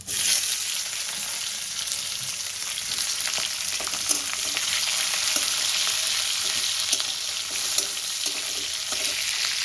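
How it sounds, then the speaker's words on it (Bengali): Thinly sliced onion frying in hot oil until brown: a dense, even hiss of bubbling oil that carries on steadily, with a few faint stirring taps. "পেঁয়াজটা দিয়ে আমি বাদামি করে ভাজবো"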